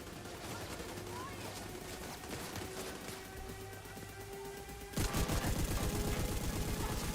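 Emmeline's Guard rifle from The Division 2 firing continuously in rapid automatic bursts, dense and loud, growing sharper and heavier partway through, with game ambience underneath and no talking over the shots.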